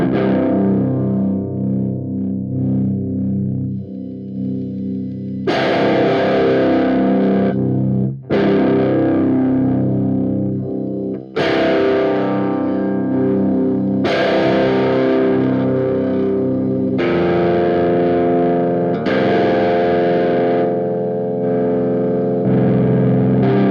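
Electric guitar run through an amp-simulation plugin with heavy distortion, played in loud sustained chords and riffs with brief breaks between phrases, with no talking.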